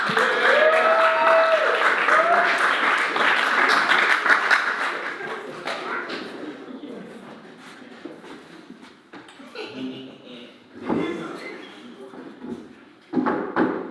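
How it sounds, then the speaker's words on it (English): A comedy roast crowd applauds loudly for several seconds, then the clapping fades into scattered claps and shuffling. "Give us a round of applause."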